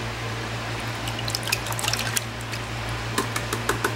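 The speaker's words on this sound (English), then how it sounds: "I got me a bucket out here to rinse it off in." A coil cleaning brush gets rinsed in a bucket of water, producing a steady trickle with scattered small splashes and sloshes, close and fairly quiet.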